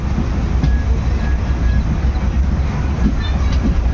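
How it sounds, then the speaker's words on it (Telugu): Steady low rumble of the Avadh Assam Express rolling slowly to a stop at a two-platform station, with faint rail clatter and a brief squeal, loud and continuous throughout. "ఆగుతుంది బండి ఇక్కడ."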